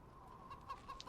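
Chickens cluck softly in the background, with a few short clucks over a low steady hum in a brief, quiet stretch with no talking.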